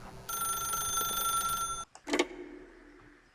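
A telephone in The Stanley Parable rings with a bright electronic trill for about a second and a half. It cuts off, followed by a short clatter as the receiver is picked up, then quiet.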